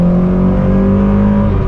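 A Triumph TR7 engine revs hard on a wet, oily track, a loud sustained droning roar with steady tones close to the microphone and no voices.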